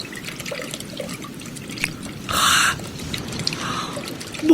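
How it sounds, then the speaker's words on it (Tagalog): Water bubbles and gurgles at the seashore at night, a steady close dripping and burbling broken by a brief, louder rush of splashing. "Bumubula sa tabing dagat."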